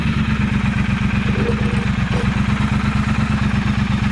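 A motorcycle fitted with a British Customs Predator Pro Shorty exhaust idles on a cool day, its loud, close, steady low pulsing chug continuing evenly throughout with no voices.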